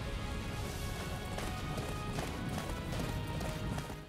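Horse galloping in the Attack on Titan video game, a fast, steady drumming of hooves that stays loud and close throughout under a dense, busy game soundscape.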